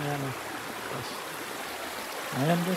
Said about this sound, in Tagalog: pero lumalaki itong ilog na to guys